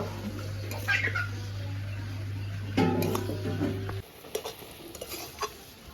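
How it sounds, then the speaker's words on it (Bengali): Elephant apple pickle cooks down with jaggery and rice as it is stirred in a pan, with a low steady hum that cuts off partway through, scattered scraping and tapping, and no talking. "ভালো করে কষিয়ে নেব গুড় দিয়ে আর চালটা দিয়ে এটা এখন সিদ্ধ হবে গুড়ের ভেতরে"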